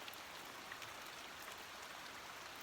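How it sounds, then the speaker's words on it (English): Steady rain falls on a van during cold-weather camping, a soft, even hiss of continuous drops with no breaks, faint and without any voices. "it's been raining non-stop"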